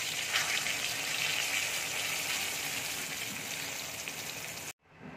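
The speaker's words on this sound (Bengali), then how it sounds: "গোটা গরম মশলা দিয়ে দিচ্ছি।" Whole garam masala and bay leaves sizzling hard in oil with browned sugar, a dense, steady, close hiss that runs unbroken before cutting off suddenly.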